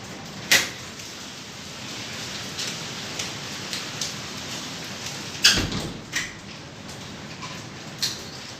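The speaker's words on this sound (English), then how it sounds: "there is a rain with ice in my area" Freezing rain with ice pellets falling outdoors, a steady soft hiss broken by several sharp, louder ticks and taps on a surface.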